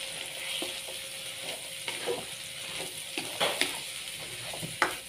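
Long beans being stirred in a hot pan, a steady close sizzle of stir-frying with scattered scrapes and clinks of the spatula against the pan, no talk.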